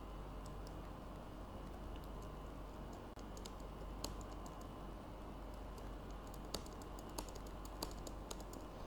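Computer keyboard typing at a desk during a networking lecture: soft, uneven clicks and taps over a steady low room hum, fairly quiet, with a few sharper keystrokes near the end and no speech.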